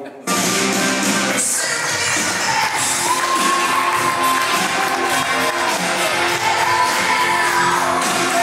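A dense wash of audience applause and cheering fills a festive celebration, starting abruptly and holding steady and loud throughout, with faint musical tones threaded underneath.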